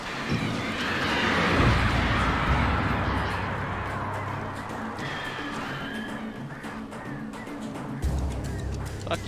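Birds squawk and honk in the Alan Wake video game, a loud continuous flock-like clamor swelling early and then settling into a dense, restless chorus.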